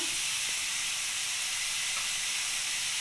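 Cauliflower pieces frying in oil in a wok while being stirred, a steady broad hiss and sizzle running evenly throughout with no talking.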